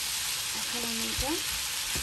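Canned peas frying with bottle-gourd skin in a pan: a constant dense sizzle close by, with a couple of faint stirring knocks partway through.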